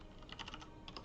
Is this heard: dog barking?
no